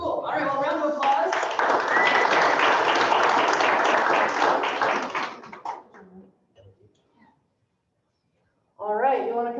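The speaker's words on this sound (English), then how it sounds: "round of applause" A small meeting audience gives a round of applause for a presenter, a dense, lively burst of clapping lasting about five seconds that tapers off into scattered claps and silence, followed by a voice speaking.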